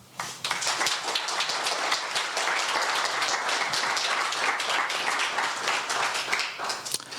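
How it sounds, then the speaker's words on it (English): Audience applause at a Zero Knowledge Summit talk: dense, sustained clapping from a crowd that swells quickly and holds steady, fairly loud, for several seconds without speech. "All right, big round of applause then."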